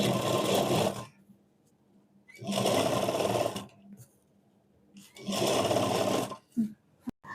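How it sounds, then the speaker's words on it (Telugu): A sewing machine stitches gold cloth piping around the neck of a lehenga, running in three loud, steady bursts of rapid whirring separated by short pauses. "బ్యాక్ నెక్ నుంచి స్టార్ట్ చేసుకుని మొత్తం నెక్ చుట్టూ పైపింగ్ వేసుకుందాం."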